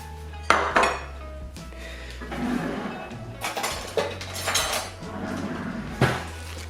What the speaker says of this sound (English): I'm going to fold that all in together to get that cabbage all nice and coated with the batter